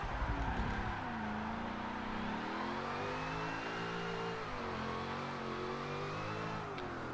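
A car drifting into a corner using weight transfer and a shift lock, its engine revving hard and holding a loud, wavering drone as it swings through the bend, close by with no talking.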